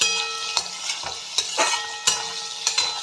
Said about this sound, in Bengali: আমি কিছু সবজি ভেজে নিচ্ছি